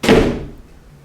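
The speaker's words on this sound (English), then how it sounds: "Did you hear that? That was a door." A door slams shut inside a house in a forest manor: one loud, close thud with a short decaying rumble, then quiet room tone.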